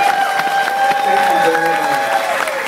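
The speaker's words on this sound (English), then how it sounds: "Can we have a round of applause for our..." Crowd applause with some cheering at a Sisters event, heard under someone speaking over it; the clapping is moderately loud and continuous while her voice stays prominent.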